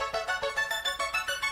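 A Korg wavestate synthesizer layer with altered pitch plays a quick, steady run of bright plucked tones, about eight evenly spaced notes, soft and unaccompanied.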